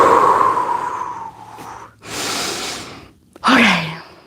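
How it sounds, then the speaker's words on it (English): Deep breathing after a leg-day workout, with a long audible exhale, a pause, then another strong breath in and out, loud and close with no talk. "Big, deep breath in through your nose."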